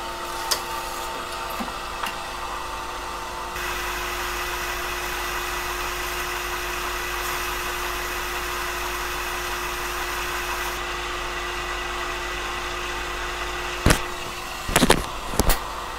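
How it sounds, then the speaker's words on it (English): A Cromemco System3 vintage computer booting from a brand-new floppy disk, its fan and drive motor humming steadily for several seconds, broken near the end by a few short mechanical clicks and clunks from the disk drive. "it boots successfully from our brand new floppy disk"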